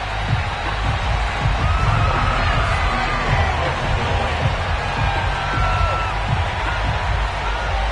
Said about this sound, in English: they entered to the delight of this sold-out crowd